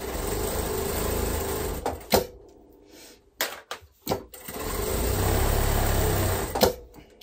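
A domestic sewing machine stitches in fast, steady whirring runs, stopping and starting with short bursts and brief pauses between seams.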